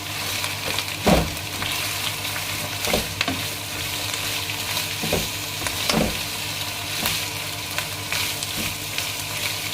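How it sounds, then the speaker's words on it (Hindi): Onions sautéing in mustard oil for a chickpea and ridge gourd dish: a loud, steady sizzle punctuated every second or two by spatula scrapes and taps against the pan, with no speech. "मैं थोड़े से इसमें प्याज ये सोटे करूँगी"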